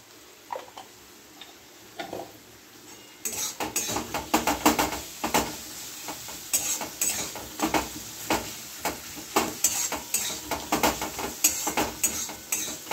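Spices including cumin and coriander powder fry in oil while being stirred, giving a steady sizzle broken by repeated scraping ticks of a spoon against the pan.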